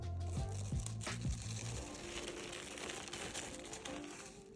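Softened old paint peeling off a vintage sewing box, a steady dry crackling and crinkling tear that runs continuously at close range, with a few brief low knocks near the start.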